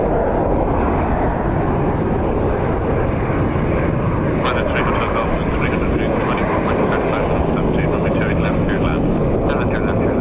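An airliner departing Dublin Airport on a windy day, a loud continuous engine roar blended with heavy wind rumble throughout, steady and unbroken.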